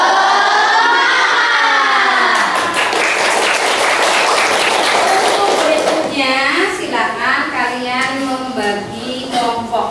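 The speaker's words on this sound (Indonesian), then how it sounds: "Sudah selesai, kita beri tepuk tangan dulu." A classroom of people claps loudly for several seconds while children's voices call out and chatter over and after the applause.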